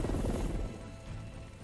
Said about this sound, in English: Batman's walking towards the helicopter because he's the goddamn Batman.